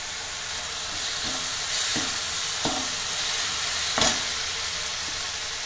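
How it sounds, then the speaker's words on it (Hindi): Masala with Kashmiri chili for egg curry fries over a medium flame, a steady close sizzle broken by a few spoon scrapes and knocks against the pan, with no talking. "मीडियम फ्लेम पर भूनेंगे।"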